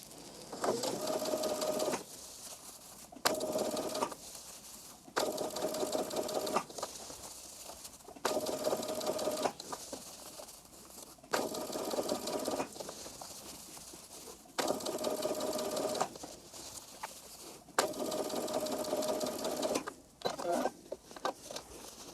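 A sewing machine understitches the seam allowance to the sleeve facing of a dress, running in steady bursts of a few seconds each with short pauses between, close and fairly loud, with no talking.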